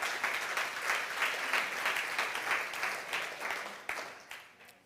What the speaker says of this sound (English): A round of applause to Anna and Mr. Thomas, their contribution.